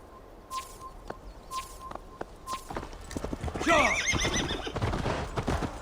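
A horse in Assassin's Creed Valhalla whinnies loudly while hooves clip-clop, followed by rustling movement and a few sharp tonal beeps.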